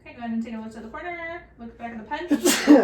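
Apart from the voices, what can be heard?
sneeze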